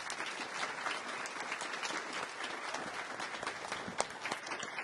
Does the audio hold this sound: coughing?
no